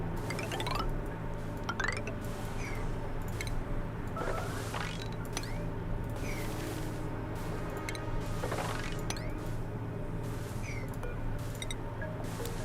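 Bleach stone tiles in Oxygen Not Included make a gritty, sand-like crunch that repeats in soft clinks and squishy trickles over a steady low game hum, with no talking.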